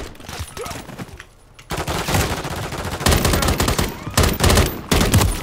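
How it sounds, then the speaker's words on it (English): Video game gunfire crackles in dense automatic bursts, pausing briefly before loud rapid volleys resume and keep going. "Who the bloody hell is shooting?"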